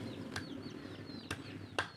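Chickens peck at lemongrass nearby with a few sharp taps, while small chicks peep softly in the background.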